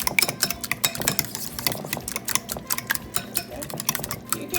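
Buttermilk and other wet ingredients for cornbread being stirred in a bowl, with rapid clinking, scraping strokes of a utensil against the sides, fairly close and steady throughout.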